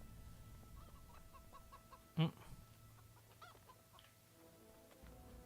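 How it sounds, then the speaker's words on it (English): A rooster clucks in The Witcher 2 video game, soft scattered clucks with one louder sharp squawk midway, under faint game ambience and murmuring. "Rooster."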